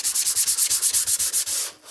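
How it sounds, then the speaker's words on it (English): Light hand sanding of a painted, buttermilk-colored wooden bunny sign, about a dozen quick, even back-and-forth strokes in a steady rhythm, close and crisp, ending in one longer rub before stopping. "I'm going to sand this"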